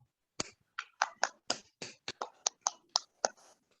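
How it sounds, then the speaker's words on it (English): Audience hand clapping at a church gathering welcoming someone speaker, about a dozen separate claps in an uneven rhythm, close and fairly loud, with no talking. "I request to all please clap and"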